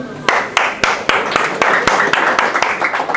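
Rhythmic, evenly spaced loud claps from a small audience at a pre-fight weigh-in event, close and sharp over a murmur of voices.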